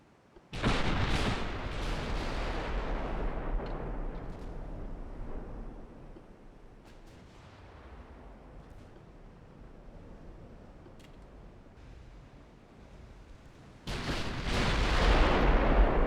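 Naval secondary guns firing at destroyers in Ultimate Admiral Dreadnoughts, a loud sustained roar of gunfire that drops to a lower rumble midway, then surges loud again near the end, no voices.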